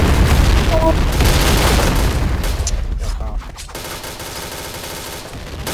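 A bomb goes off in a multiplayer video game, a loud, dense blast of rumbling booms filling the first few seconds before settling into a lower, sustained roar.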